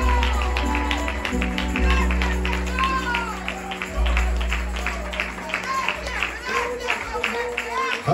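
Church congregation at a praise service claps together while music plays, the applause mixed under sustained organ-like tones and a singing or speaking voice.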